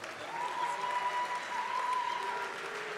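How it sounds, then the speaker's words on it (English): A crowd applauds student athletes with GPAs of 3.5 or above at a college athletics year-in-sports event, a sustained moderate clapping wash with a faint steady tone running through it. "I think we need to give them a huge round of applause"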